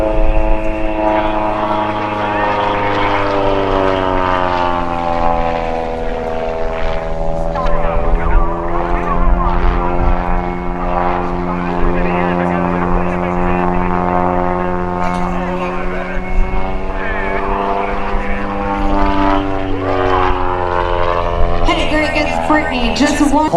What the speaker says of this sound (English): this is the new C-46 Pegasus